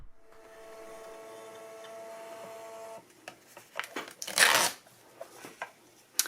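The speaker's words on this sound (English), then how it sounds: "And then we'll hit the print button and it should be printing." A Phomemo M02 thermal printer prints a small to-do list, first giving a faint steady whir and then a few louder rustling and clicking bursts as the paper feeds out, close by.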